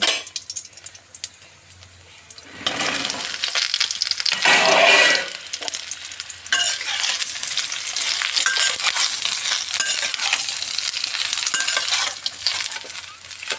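Dried jujube (kul) goes into hot oil with dried chilli and five-spice tempering in a wok, bursting into a loud, continuous frying sizzle after a quieter start, with stirring scrapes layered through it, close up.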